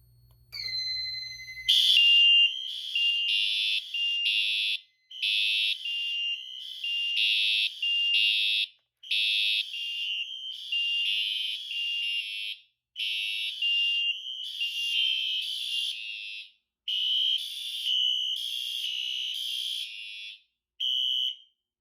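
Fire alarm horns from a Notifier SFP-10UD panel system with Wheelock Sync devices, triggered by a smoke detector magnet test, blare in loud repeating pulses with brief gaps, the sound cutting off in short bursts near the end.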